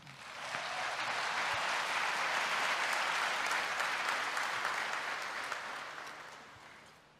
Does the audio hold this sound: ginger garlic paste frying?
no